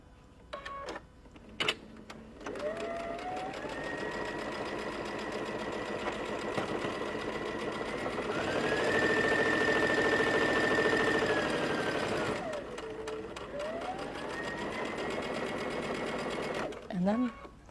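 A sewing machine runs almost continuously while stitching a quarter-inch seam, a steady mechanical whir that rises in pitch and loudness midway, with short pauses and clicks near the start and end. Voices are heard over the stitching.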